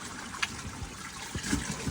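Water trickling and dribbling inside an underground tunnel collector, a soft continuous wet patter with small irregular splashes, echoing faintly in the enclosed space with no voices.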